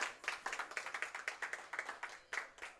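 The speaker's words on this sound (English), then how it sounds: "Applause, everybody." A small group claps in the booth of a college coaches' show, sparse rhythmic hand claps close to the microphone, distinct individual claps in quick succession.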